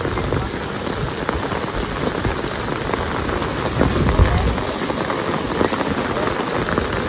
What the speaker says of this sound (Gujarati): ધમધોકાર વરસાદ પડે છે